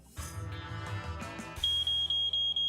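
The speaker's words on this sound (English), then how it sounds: "Code 16, malfunctioning smoke detector." A malfunctioning smoke detector sounds a loud, piercing steady alarm tone broken into repeated beeps, close by, following a stretch of indistinct background noise.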